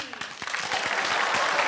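An audience at a comedy stage show breaks into applause, dense clapping that builds and holds steady, fairly loud and close.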